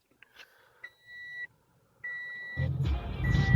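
Startup chimes of a 2015 Toyota Highlander LE Plus, two sustained electronic beeps with a pause between them, followed by the engine catching and running louder underneath.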